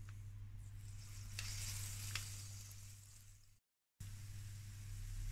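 Buñuelo dough, the sweet Extremeño fritters called repápalos, sizzles steadily in hot oil, a soft, close hiss with a few brief crackles, cutting out for a moment before resuming.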